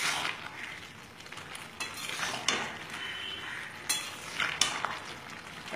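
Ginger paste being stirred into Tagore-style dal in a pan, with scraping strokes and occasional clinks of utensil on metal over a soft sizzle, close and steady.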